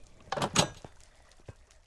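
Wooden door in the Minecraft video game swinging open or shut, a pair of close clicky thumps followed by a couple of softer knocks, with no talk over it.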